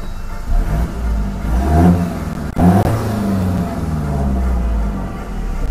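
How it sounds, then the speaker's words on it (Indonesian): Toyota Innova with a valvetronic exhaust set to rear exit mode, revved hard and close in two rising surges with a brief dip between, then settling into a steady, throaty idle. "Nah, ini masih kita pakein mode yang keluarnya itu dari belakang dan suaranya itu kayak gini."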